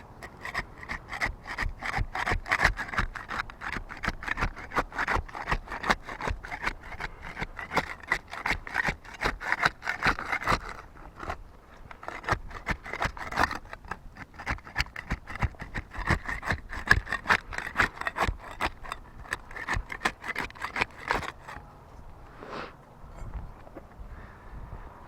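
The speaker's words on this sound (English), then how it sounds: "We'll get started with the putty knife. We'll use that to unseal the top shingle there," A putty knife working under an asphalt roof shingle to unseal it, with dense rapid scraping and rasping strokes that run close and continuous for most of the stretch, then ease off near the end.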